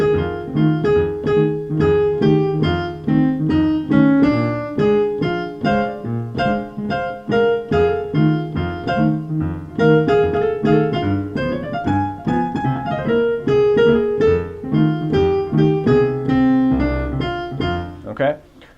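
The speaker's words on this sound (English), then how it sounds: "So if I were to play a blues in the stride style," Solo piano plays a bare-bones blues in stride style, an oom-pah left hand alternating low bass notes and mid chords under right-hand melody, steady and close for the whole passage.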